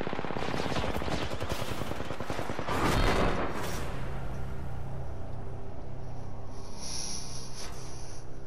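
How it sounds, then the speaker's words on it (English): Rapid bursts of automatic gunfire crackle through an Arena shooter match, dense and loud for the first few seconds, then thinning out into scattered shots under a lingering game hum. "They're shooting."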